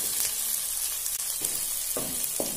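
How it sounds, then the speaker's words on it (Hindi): Finely chopped onion sizzles steadily in a pan as it browns lightly, a constant hiss broken by a few soft scrapes of a spoon stirring. "इसको हल्का सा थोड़ा ब्राउन करेंगे।"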